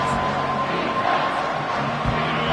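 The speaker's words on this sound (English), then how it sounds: "Here comes this home crowd as the defense tries to get off the field on third down." Home crowd at an Oregon American football game roars steadily as the defense tries to get off the field on third down, a dense, continuous wash of cheering from a large stadium throughout.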